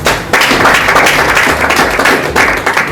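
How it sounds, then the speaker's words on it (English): An audience claps together in a hall, steady and dense for nearly three seconds after a brief quiet start, with no voices over it. "Can we clap for ourselves?"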